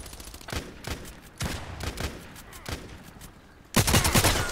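Long-range gunshots in the shooter game Contract Wars, several separate loud cracks spaced about a second apart, ending in a denser, louder burst of fire.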